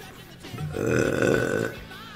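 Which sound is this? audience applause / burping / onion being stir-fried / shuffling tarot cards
burping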